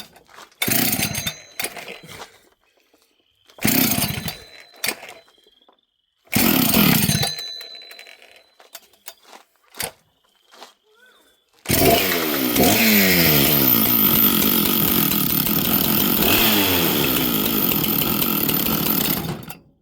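A big chainsaw with a worn clutch that lets the chain keep spinning at idle gives three short throttle blips separated by quiet gaps, then settles into a loud, steady running drone.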